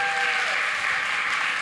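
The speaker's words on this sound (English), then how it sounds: "Give him a round of applause" A conference audience gives a steady, dense round of applause that fills the room and stays level the whole time, with no voices on top.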